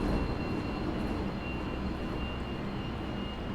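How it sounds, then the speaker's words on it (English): High-speed metro train in the Hmmsim Metro video game, a steady loud broadband roar with a jet-like whine and a faint high tone held throughout, no speech. "do the metro trains sound like jet engines?"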